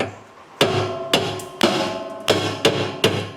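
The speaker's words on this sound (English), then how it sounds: "Let me go get a hammer, knock that back a little bit." Six sharp hammer blows knock against a 3-inch sewer valve on a Class B motorhome, spaced unevenly and ringing briefly after each strike, with no talk.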